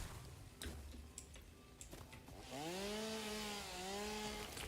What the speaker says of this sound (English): we want to use our chainsaw